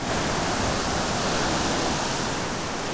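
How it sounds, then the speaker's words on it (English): Ocean waves wash loudly and steadily at a beach cave as high tide comes in, a dense continuous roar of surf close by with no voices. "You gotta hurry up because high tide's coming in. Waves look scary right now."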